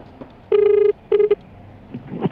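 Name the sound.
phone number being dialed for a Joyride customer call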